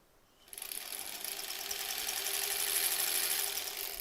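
A home sewing machine runs steadily while quilt blocks are stitched, starting suddenly after a quiet moment and holding a continuous whirring hum with a slight rattle, close and moderately loud.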